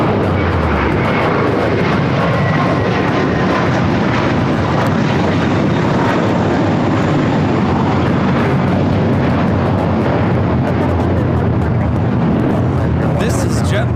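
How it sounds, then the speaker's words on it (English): A JetBlue Airbus A321 takes off from JFK with a loud, dense, continuous jet roar close by, and people chat over the engine noise. "This is JetBlue Flight 524 taking off the JFK"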